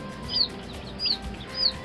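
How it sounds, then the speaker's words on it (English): Baby chicks chirping, three short high peeping calls spaced evenly at close range over a quiet background. "a chirping chick will attract predators"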